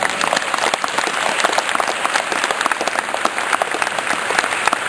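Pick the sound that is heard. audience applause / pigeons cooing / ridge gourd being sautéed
audience applause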